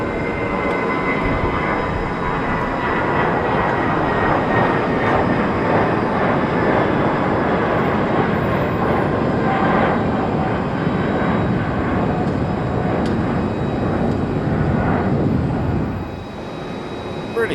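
A British Airways Airbus A320 airliner takes off at London Heathrow on a flight to Faro, giving a loud, sustained jet engine roar that holds steady for most of the time and then eases off near the end.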